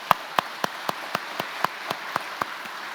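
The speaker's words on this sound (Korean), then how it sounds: "하나님께 감사하며 박수로 영광 돌리겠습니다" A handful of sharp, evenly spaced claps ring out in a church sanctuary during a Sunday worship service, honoring the choir; about a dozen distinct hits, moderately near, with no voices.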